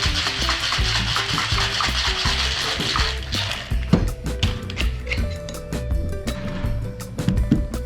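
A cocktail shaker full of ice is shaken hard, a rapid run of rattling, clacking hits that grows sharper and more irregular, with tonal background music underneath.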